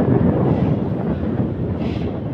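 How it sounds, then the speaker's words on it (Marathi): Strong wind buffets the microphone at a crowded seaside spot at Chinchani near Boisar, a steady loud roar of broadband noise throughout with no voices. "हवा जाम."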